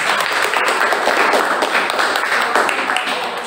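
A classroom full of students claps for the first group, a dense, steady burst of applause at close range that holds for several seconds.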